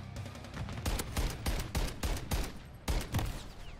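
A high-recoil gun in a first-person video game fires a rapid string of loud, punchy shots in uneven bursts of two or three, close up and heavy in the low end, with no voices over it.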